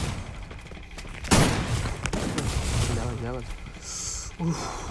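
A shotgun fires in a video game as a loud, sharp blast, followed by smaller gunfire and game effects, with people talking over the action.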